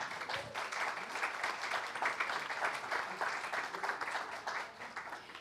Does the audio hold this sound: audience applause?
yes